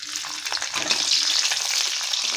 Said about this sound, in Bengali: তো এবার আমরা প্রথমে কাজু আর কিশমিশটাকে এর মধ্যে দিয়ে ভেজে নেব।